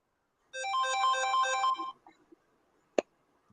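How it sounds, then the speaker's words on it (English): A 15-minute timer alarm ringing with a bright, warbling electronic tone for over a second, close and clear, followed by a sharp click. "That was the timer."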